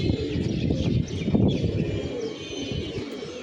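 A dense, continuous murmur of cooing from a loft of young pigeons, with soft chirps and rustling layered close together and no pauses.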